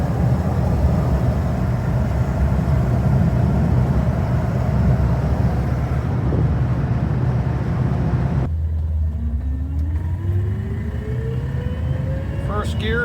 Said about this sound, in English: First gear, it's got a intoxicating whine like a T10 4-speed